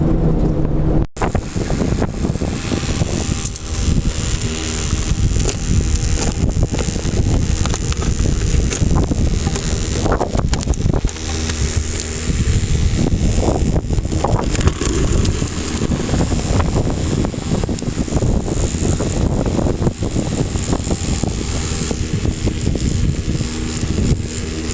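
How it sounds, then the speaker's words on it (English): Strong wind blowing hard outdoors in desert prospecting country near Randsburg, loud gusting buffets battering the microphone in uneven bursts across the whole stretch, with a low rumbling roar beneath and no voices. "Super windy out here."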